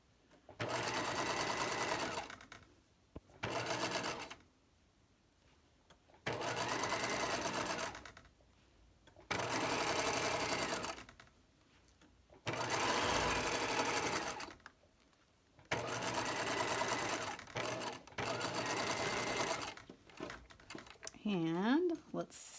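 A sewing machine stitches in the ditch along a facing piece, running in several bursts of a few seconds each separated by short pauses, close and steady, with a brief faint sound at the end.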